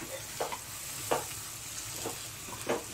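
Boiled toor dal being stirred in a cooking pot, soft wet scraping swishes at irregular intervals over a low background hiss.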